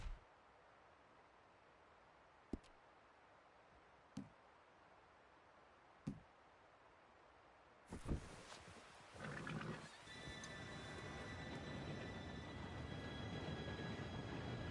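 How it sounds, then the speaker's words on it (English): A video game train arrives. A few sharp isolated clicks are followed by a rising rumble that grows into a loud, sustained roar with high metallic squealing. "Train should be here any minute now."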